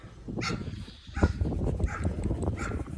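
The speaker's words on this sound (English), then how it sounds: "The dog's running around." A dog barks and moves around during a training session, producing a few sharp nearby barks over a scuffling background, with no clear speech.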